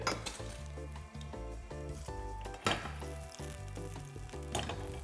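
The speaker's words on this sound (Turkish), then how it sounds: "yağımız bu arada biraz kızarsın" Oil heats and fries in a pan while making a chicken and mushroom hummus dish, giving a steady sizzle mixed with clinking of utensils against the pan and a few louder bursts, with no one talking.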